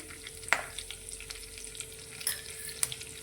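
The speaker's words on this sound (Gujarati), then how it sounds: "રાઈ આપણી ફૂટવા લાગી છે તો થોડું જીરું એડ કરીશું" Mustard seeds, cumin, curry leaves and asafoetida crackle and sizzle steadily in hot oil in a pan, with a few sharp pops and light stirring clicks, close and alone.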